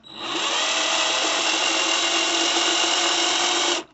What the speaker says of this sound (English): I'm just drilling into the screw.